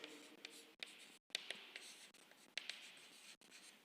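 Pen or pencil writing a math solution by hand on paper, close and crisp, with short scratchy strokes in quick bursts separated by brief pauses as each term is written.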